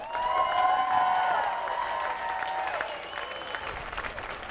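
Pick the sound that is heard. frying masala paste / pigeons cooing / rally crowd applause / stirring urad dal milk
rally crowd applause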